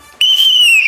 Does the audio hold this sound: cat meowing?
no